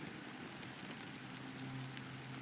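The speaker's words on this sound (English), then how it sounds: "But it's still raining." Steady rain hiss in the Honkai Star Rail video game, a constant soft wash of falling drops with faint droplet ticks, quiet and unbroken, with no voices.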